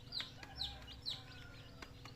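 Newly hatched native chicks peep in three short, high chirps spaced about half a second apart, close by, over a low steady background hum.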